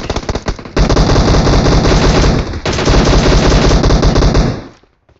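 Loud, sustained automatic gunfire in the mobile battle royale game BGMI (PUBG Mobile), with rapid bursts of continuous shots that cut out briefly and then resume before fading away.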